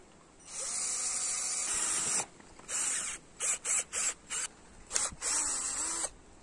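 A small electric drill boring into a steel part for a string trimmer hack, a high whining buzz running in a long burst and then in short on-off pulses, close and alone.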